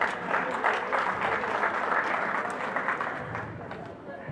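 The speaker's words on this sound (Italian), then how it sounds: "L'applauso è bello" An audience at a live comedy-music stage show applauds with steady, dense clapping throughout, fairly distant and sustained, with some crowd murmur mixed in.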